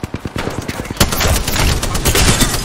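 Rapid gunfire in the video game Apex Legends: a string of sharp, evenly spaced shots that gives way to dense, overlapping fire from a firefight, loud and close throughout.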